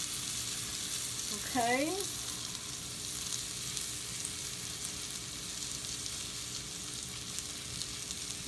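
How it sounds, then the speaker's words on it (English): African peanut butter sauce sizzles in a pan as a steady, soft, even hiss throughout, with one brief spoken word near the start. "so we'll let it cook on this side for a couple of seconds, and then we'll mix it again."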